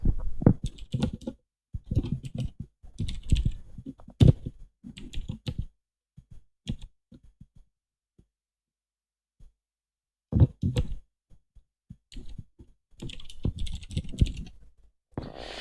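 Typing a command on a computer keyboard, with rapid irregular bursts of close key clicks, a long pause midway, then more fast typing.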